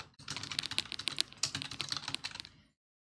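Typing HTML form code on a computer keyboard, a close, steady patter of crisp key clicks for about two and a half seconds that then stops, with no talking.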